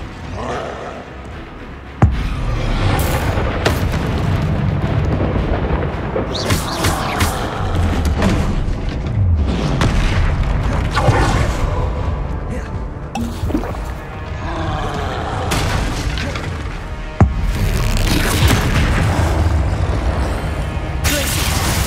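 An Incendio fire spell cast in Hogwarts Legacy, with loud booming blasts and crackling, rushing bursts over game music. Sharp impacts hit at about two and seventeen seconds, and battle noise continues between them.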